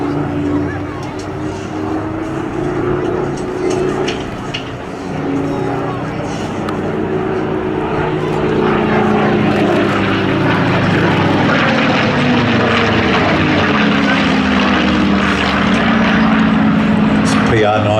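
Spitfire PR.XIX propeller aircraft passing overhead at an air festival, its engine drone loud and sustained and rising as it comes nearer, with a voice talking over it.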